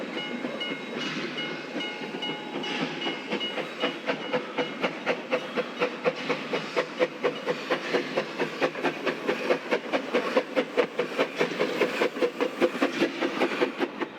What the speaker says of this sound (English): 6A is the oldest operational locomotive in the PBR's fleet